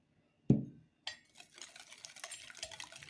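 Cookie batter of ayran and oil being stirred in a bowl, a sharp knock of the utensil against the bowl followed by a continuous close, wet scraping and sloshing.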